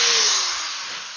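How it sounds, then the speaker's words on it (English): A power drill runs steadily, loud and close, its high-pitched whine holding level for about a second with no talk. "Okay, I think we're good on the drill."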